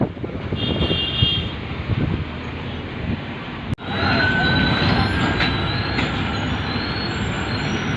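A train rolls through the Mularuli railway level crossing, loud and close, with a heavy steady rumble and squealing wheels. A brief dip partway through is followed by a continued roar.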